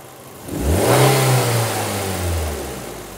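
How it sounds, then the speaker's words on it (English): A car engine revving as the throttle is opened from idle, a quick rise to a loud mid-pitched roar that holds and then eases back down, heard alone. "So when I increase the throttle"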